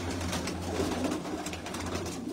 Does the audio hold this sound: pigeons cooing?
yes